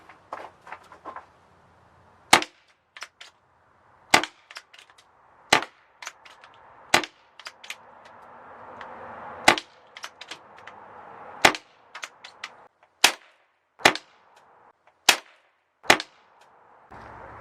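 About a dozen regular shots from a Webley Nemesis .177 CO2 air pistol fitted with a moderator, somewhat muted pops each trailed by metallic clangs of pellets striking a target, with quiet shuffling between shots.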